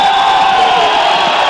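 A football stadium crowd cheers loudly and continuously at the final whistle of a Campeonato Paulista Série A2 match, a dense, sustained roar with whoops and shouts.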